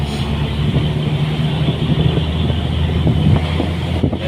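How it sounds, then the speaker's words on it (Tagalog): Steady wind rushing past a moving vehicle, with a low engine rumble underneath and no voices. "Sarap yung simoy ng hangin."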